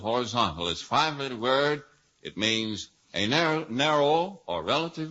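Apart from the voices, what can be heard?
None of the usual background noises is heard.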